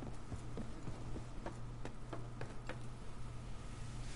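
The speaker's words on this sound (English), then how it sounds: "Footsteps are so loud in this game." Footsteps in a video game, a steady series of close, crisp clip-clop-like steps at a walking pace over a low droning hum, fairly faint.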